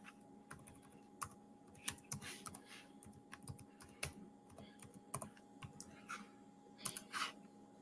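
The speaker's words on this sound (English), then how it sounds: "I'll be better off typing it in on Google." Quiet, irregular clicking of keys on a computer keyboard, with scattered taps and a few sharper strokes, close by with a faint steady hum underneath.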